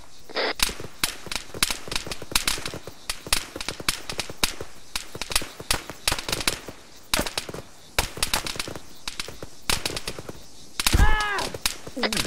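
Rapid rifle fire in the military shooter ArmA 3 crackles in a dense, sustained string of sharp shots, some near and loud, others overlapping further off, with a brief whooshing sweep near the end.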